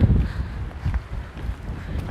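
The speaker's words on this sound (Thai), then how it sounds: "ลมแรงมากนะคะ" Strong wind roars and buffets the microphone beside an icy, slippery road, a steady low rumble with uneven gusts swelling and fading throughout, with no talking.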